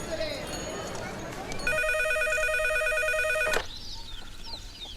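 An outgoing telephone call rings with a bright electronic tone that sounds steadily for about two seconds and then cuts off abruptly. Noisy room sound comes before the ring, and a quieter background follows it.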